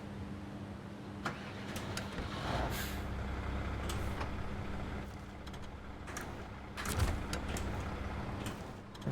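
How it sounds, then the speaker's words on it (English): Truck engine idling in the off-road driving game SnowRunner, a steady low rumble throughout with occasional sharp clicks and hisses over it, no talk. "Turn my truck off for a second."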